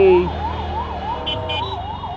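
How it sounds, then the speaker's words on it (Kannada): A wailing ambulance siren sweeps up and down over engine rumble, close by and loud for a couple of seconds. "ಏಯ್ ಬಿಡ್ರ, ಆಂಬುಲೆನ್ಸ್ಗೆ ಜಾಗ ಲೇ."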